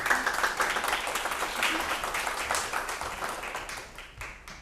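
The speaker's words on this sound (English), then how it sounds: "please give a big round of applause" Audience applause at a safety seminar greets an instructor of hand techniques and escapes, with dense clapping loud at first that gradually thins and fades toward the end.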